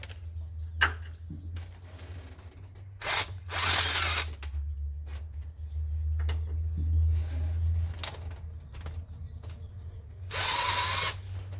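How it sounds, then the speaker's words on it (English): Several short bursts of a power tool spinning off intake manifold bolts on a 1978 Pontiac Trans Am engine, separated by pauses with clicks and clanks, over a low steady hum. "The easy way nowadays, power tools."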